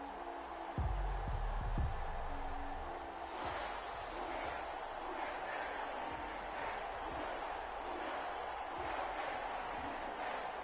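A stadium crowd in an EA Sports NFL video game roars steadily throughout a Minnesota Vikings versus New Orleans Saints matchup, a broad, distant wash of noise with a few low thumps near the start.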